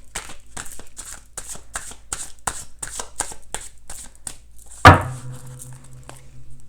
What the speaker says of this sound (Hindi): so I am going to shuffle cards